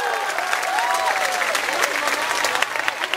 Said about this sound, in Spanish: Fuerte el aplauso, por favor, para él